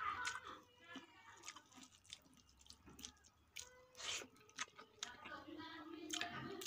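Close, faint chewing while eating dal, soft irregular wet mouth sounds and small clicks against a quiet background.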